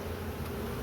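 Bees hum steadily around an open hive whose colony reaches up into a wall cavity, a dense, even buzz close by with no voices.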